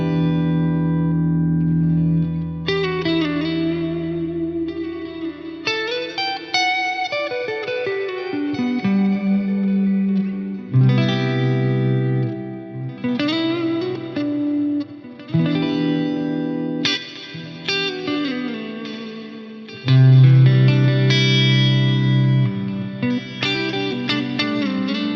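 A guitar runs through a Rocktron Chameleon 2000 set for a long delay with the reverb turned all the way up. Notes and chords repeat and smear into a washy tail that lasts the whole stretch, loud with no voice.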